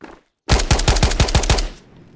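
Automatic fire from an L85A2 rifle in the VR shooter Ghosts of Tabor: a loud, close burst of about seven rapid shots, followed by a fading tail, with no talk over it.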